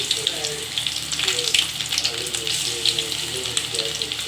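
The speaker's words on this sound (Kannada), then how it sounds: "ಈಗ ಫ್ರೈ ಮಾಡಕ್ಕೆ" Raw jackfruit fries in a pan with a steady hissing sizzle and bubbling crackle up close, with a voice faintly underneath.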